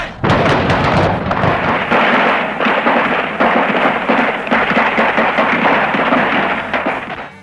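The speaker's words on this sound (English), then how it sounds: "13 seconds of gunfire" A rapid, dense barrage of gunshots cracks and booms without pause for several seconds, loud and echoing, then cuts off abruptly: 13 seconds of gunfire at the Kent State shootings.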